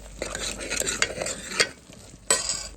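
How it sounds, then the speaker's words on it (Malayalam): Pepper being stirred into squid roast gravy in a pan, heard as a steady close scraping and stirring with a faint sizzle underneath and a few sharper strokes of a utensil against the pan. "കുരുമുളക് ചേർത്ത ശേഷം നമ്മൾ നന്നായിട്ട് മിക്സ് ചെയ്ത് കൊടുക്കാം"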